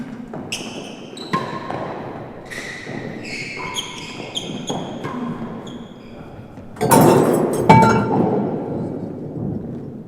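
Glass gets knocked over in the spectator gallery during a real tennis doubles final at the Australian Open, a sudden loud clinking crash after a series of ball thuds and echoing court sounds.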